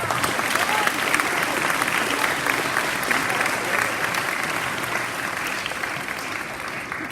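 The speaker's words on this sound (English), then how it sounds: "You can clap for that." Steady, dense applause from an audience fills the whole stretch at an even level, a continuous wash of many hands clapping with no voices on top.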